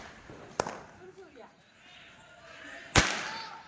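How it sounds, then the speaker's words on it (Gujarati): Diwali firecrackers go off in two sharp, separate bangs a few seconds apart, with people talking quietly in between. "આ બધા દિવાળીના ફટાકડા ફોડે છે."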